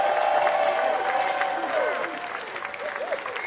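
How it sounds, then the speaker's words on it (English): Rally crowd applauding and cheering loudly and steadily, with whoops and shouts rising over the dense clapping throughout. "Give a round of applause for Tariq."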